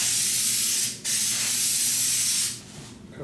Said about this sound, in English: Spray 2 surfaces, allow a minimum of 30 seconds drying time.